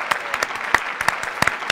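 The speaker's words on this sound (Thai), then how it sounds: "ครับคุณเกตเชิญบนเวทีเลยปรบมือครับ" A live station audience gives sparse, scattered claps for a guest invited on stage, a few distinct sharp hand claps at irregular intervals rather than a full ovation.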